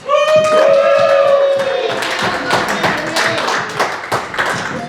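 Loud applause from an audience at the Gallatin Labor Temple in Bozeman, Montana, dense clapping with a few whoops and a sustained shout at the start, close and full.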